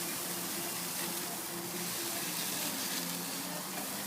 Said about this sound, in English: Tomatoes, I do want a nice sear mark on them.